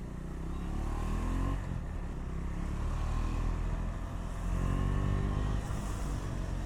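A KTM 390 Duke Gen 2 single-cylinder motorcycle hums steadily while being ridden, a continuous low engine drone with wind rush, swelling slightly around the middle and again near the end, with no talking.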